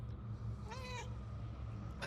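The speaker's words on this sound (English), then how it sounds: "That's the cat." In the ghost detective game Murdered: Soul Suspect, a cat gives one short, clear meow partway through over a faint steady background hum.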